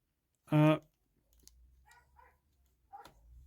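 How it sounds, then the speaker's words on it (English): A single loud, close bark from a dog outdoors, short and sharp, followed by quiet indoor sounds and faint murmured speech. "And there's a dog barking outside."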